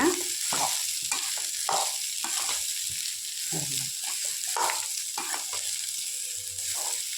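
Beetroot sautés steadily in an oil-filled pan for chutney, a continuous sizzle with repeated scraping stirs close by, without a pause throughout.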